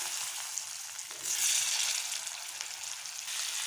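Potatoes for egg biryani fry in hot oil with a continuous loud sizzle that swells briefly partway through, with no talk.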